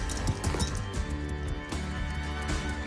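Hooves clop in a quick rhythmic trot, fairly close, over a busy background of other sounds.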